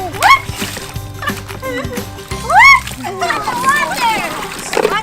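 Water splashes and sloshes on a toy water table during children's outdoor play, with repeated close splatters mixed with excited kid voices and adult talk throughout.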